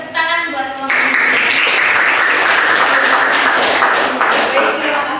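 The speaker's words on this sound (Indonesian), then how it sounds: "Tepuk tangan buat kelompok." After a brief voice, a classroom audience breaks into dense, steady clapping for a student group, sustained for several seconds and heard close and fairly loud.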